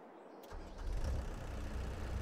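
A tractor engine in the Farming Simulator 22 game starts up and settles into a steady mid-pitched rumble, moderately quiet and heard alone.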